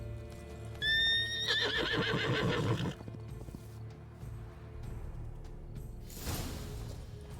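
A horse in The Witcher 3: Blood and Wine gives a loud, close, wavering whinny that rises and trembles for about two seconds, followed by quieter shuffling and a breathy snort over soft ambient background.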